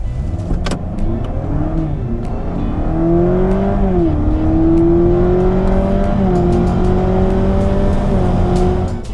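A Honda Civic e:HEV RS hybrid pulls hard under full throttle, its pitch climbing steadily through several gears with brief dips at each shift, loud and close, no voices.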